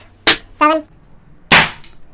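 An Umarex Beretta M92 CO2 BB pistol fires pellets: two sharp, close pops about a second apart, with a short voice sound between them.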